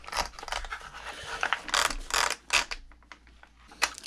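Close ratcheting clicks come in short bursts as a hand tool turns to loosen a part on a Traxxas RC car, with a rough, mechanical rhythm and no talking.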